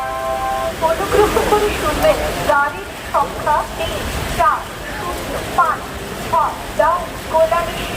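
Steady rain hisses across the platform at Dum Dum railway station, a constant wash of noise beneath a person talking throughout.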